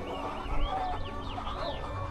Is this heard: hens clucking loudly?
yes